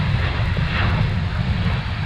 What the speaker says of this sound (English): We have a small plane going